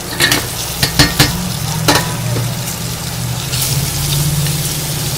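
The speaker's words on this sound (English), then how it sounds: "I will add these vegetables, cauliflower, all these vegetables. I have to mix it." Cauliflower and other vegetables for a carrot, cauliflower, turnip and chilli pickle are stirred into masala, opening with several sharp clattering knocks and scrapes, then a steady soft wet mixing rustle.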